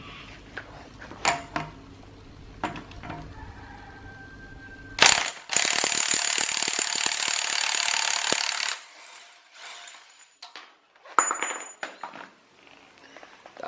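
A ratchet fitted with a large 36mm socket works loose a drive shaft bolt on an R32 Skyline, starting with a few isolated clicks, then a loud, rapid run of close ratcheting for several seconds, followed by scattered short bursts.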